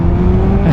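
A Kawasaki Ninja ZX12R motorcycle engine revs close up, a loud, steady, deep roar with a rising whine, heard alone over less than a second.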